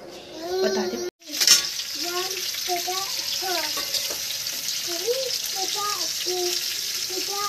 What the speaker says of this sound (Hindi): तेल में सेकी जा रही है